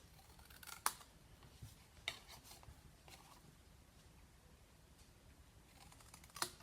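Scissors make angled notch cuts in the glue tabs of a handmade paper box, giving faint, close, sparse crisp snips with soft paper rustle between them.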